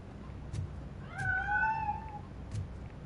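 A cat in Robocop Rogue City lets out one clear, drawn-out meow, fairly close and heard alone over a quiet game background.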